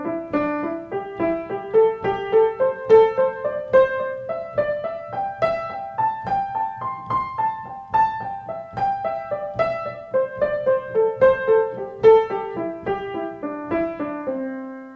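A piano plays pentatonic scale licks grouped in threes over a triple beat, with bright, evenly spaced notes that climb and fall in a steady rhythmic pattern, played alone at a clear, close level.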